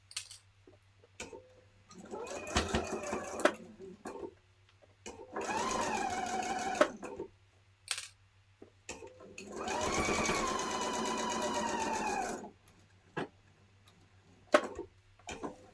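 A sewing machine stitches quarter-inch seams for reverse appliqué, running in several bursts of rapid, even needle chatter, a few short and two sustained for two to three seconds, separated by quiet pauses with faint clicks and handling.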